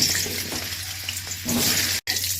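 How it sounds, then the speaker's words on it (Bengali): Potatoes frying in hot mustard oil in a wok give a steady, close hiss and crackle throughout, with a brief dropout near the end. "কড়াই গরম হয়ে গেছে, এতে সর্ষের তেল দিয়ে দেবো। গরম হয়ে গেছে, আলুগুলো ভেজে নেব।"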